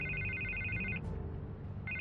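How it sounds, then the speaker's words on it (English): Telephone ringing in a video game scene: an electronic double-tone ring repeating steadily, broken by a short gap before it resumes, over a quiet low background. "I can't get the phone to stop ringing."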